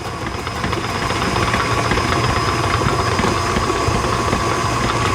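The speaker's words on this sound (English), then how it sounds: "I'll turn it up. About number 4 on my KitchenAid, probably medium high on another mixer." A KitchenAid stand mixer runs at about speed 4, medium-high, beating blondie batter made with brown butter and brown sugar, giving a constant loud motor whir with a steady hum throughout and no talking.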